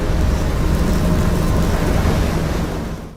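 A thunderstorm in the video game Life is Strange, with a dense, steady roar of rain and wind rumbling loudly throughout before cutting off abruptly at the end.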